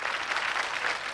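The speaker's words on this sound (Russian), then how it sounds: "Мокрота. Аплодисменты." Studio audience applause on a Russian TV game show, a short, fairly faint burst of steady clapping heard alone.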